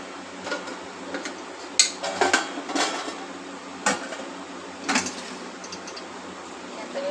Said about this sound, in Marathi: व्यवस्थित असं हलवून घ्यायचं वरखाली, म्हणजे सगळा मसाला ह्या तांदूळला लागेल.